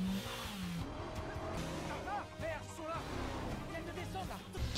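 A car chase from a film: engines roar and tires squeal and skid continuously for the whole stretch, with a voice talking over the action throughout.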